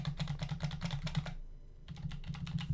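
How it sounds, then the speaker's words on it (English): Rapid typing on a computer keyboard as a demo credit card number is entered at checkout, steady bursts of close key clicks with a brief pause midway, no voices. "Let me enter in my demo credit card."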